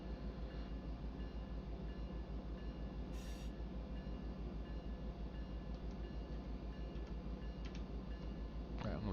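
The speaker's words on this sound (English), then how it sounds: "all these cars are pushing on the train." Freight train cars roll steadily along the track with a continuous low rumble and faint rhythmic ticking, with a brief metallic squeal partway through and no talking.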